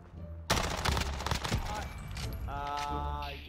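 Automatic gunfire in the Warzone battle royale video game, a dense burst of rapid shots over roughly a second and a half, then fainter scattered fire as a voice speaks briefly.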